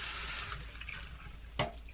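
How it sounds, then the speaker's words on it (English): Cold water runs from a tap into a container for a slime experiment, a steady close splashing rush that eases off partway through, then a short clink. Nobody speaks. "we're gonna fill it up with cold water"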